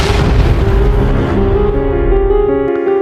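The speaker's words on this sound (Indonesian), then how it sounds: "Ledakan pun tidak bisa dihindari." A heavy video-game explosion in a dungeon booms and rolls out into a long, loud rumbling roar that slowly fades, with a low tonal hum lingering underneath.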